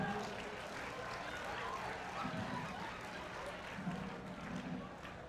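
Audience applause at a stage hypnosis show, a steady wash of clapping from a crowd held at moderate volume, with voices faintly audible beneath.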